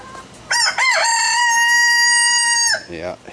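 A rooster crows one long, loud cock-a-doodle-doo close by, with short clucks just before it and more soft clucking after.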